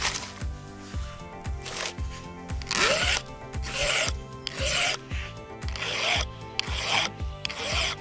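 A hand file rasps across a tooth of a Stihl MS 462 chainsaw chain in steady forward strokes, about eight close, crisp scrapes at an even rhythm.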